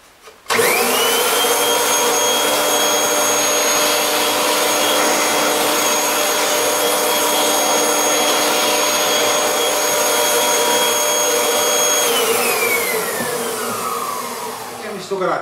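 Kirby vacuum cleaner set up in canister mode, motor starting abruptly and whining at a steady high pitch with strong tonal hum, then winding down near the end; loud and close, no speech.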